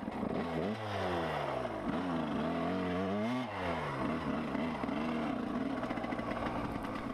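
A Yamaha YZ250 two-stroke dirt bike engine runs through a test ride after carburetor tuning. Its loud, buzzy revs climb and fall in repeated sweeps, then hold a steady, rattling drone.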